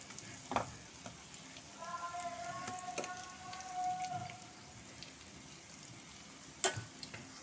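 Fish fries in oil in a pan with a soft, crackling sizzle and scattered pops, quiet and close, with faint background tones partway through.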